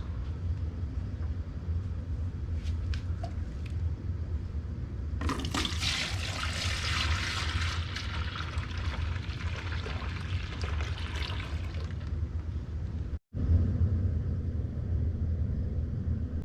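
Brewed wort pours into a fermenting bucket in a steady rushing splash over a low rumble, the flow breaking off briefly near the end before resuming, no voices.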